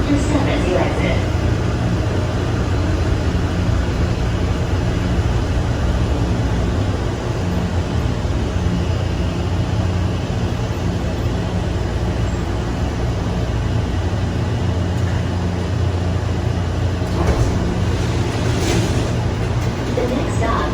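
Atlanta Hartsfield-Jackson airport Plane Train people mover slowing to a stop at night, a steady low rumble and hum filling the cabin throughout, with faint rattles and a recorded announcement voice over it.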